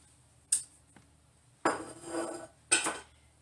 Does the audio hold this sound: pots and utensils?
yes